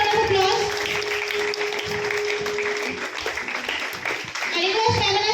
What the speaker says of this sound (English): Give a huge round of applause for her.